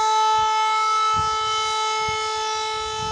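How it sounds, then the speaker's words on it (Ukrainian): A sustained air raid siren wails steadily in the distance, its tone holding throughout, with faint low rustling beneath. "сирена провила, у нас тривога"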